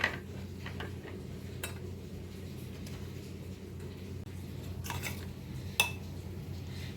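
Cubed paneer is mixed gently into a chapathi roll filling in a pan, giving faint, scattered clinks and scrapes over a steady low background hum. No one talks.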